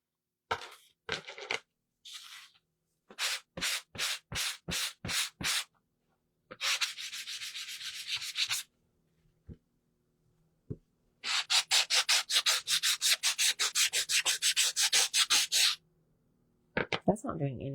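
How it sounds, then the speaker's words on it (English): Wood being sanded by hand with a sanding block in bursts of quick, rhythmic back-and-forth strokes, loud and close, with pauses and a few knocks between sets. "let me find my sanding block"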